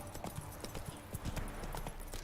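Horse hooves clip-clop at a steady trot in the fantasy game The Witcher 3: Wild Hunt, a quick even rhythm of hoofbeats, faint and continuous with no talking over it.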